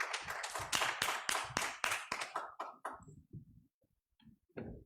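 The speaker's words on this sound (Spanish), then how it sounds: "entonces les damos un aplauso más y gracias a todos por venir." A small audience at a Latin American philosophy reading claps together in a brisk burst that thins out after about three seconds into a few scattered, isolated claps.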